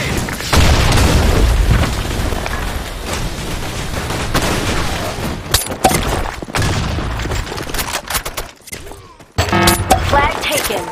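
Loud in-game grenade blasts booming amid bursts of gunfire during a video game match, with voices shouting over the dense battle noise.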